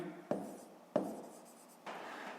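A pen scratches out a maths solution on paper in three faint, short strokes, quiet and close, with no talk.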